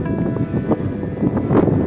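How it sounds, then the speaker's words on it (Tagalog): Strong gusts buffet the microphone at a cold mountain campsite, a steady broadband rush with swelling surges and a louder gust near the end. "Lakas ng hangin dito."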